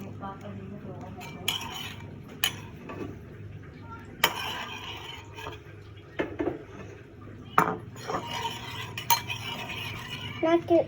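A utensil stirs food in a cooking pot, with scraping and irregular metallic clinks and knocks against the pot sides, close by, while voices talk intermittently.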